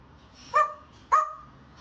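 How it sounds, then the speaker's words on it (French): Two sharp dog barks about half a second apart, close and fairly loud, each a short yelping bark over a quiet background with no talking. "Et comment il aboie le chien?"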